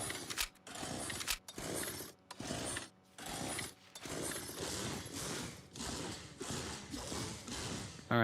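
Ash Williams' chainsaw hand pickaxe in Fortnite revs in a series of rhythmic mechanical bursts with short gaps between them, a buzzy, ratcheting whir repeated about ten times.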